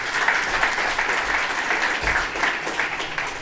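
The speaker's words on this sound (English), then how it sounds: "Can you get a round of applause, please?" Audience applause fills a conference room after a talk on mobile gaming trends, dense even clapping from many hands throughout, fairly loud and continuous, with a low thump partway through.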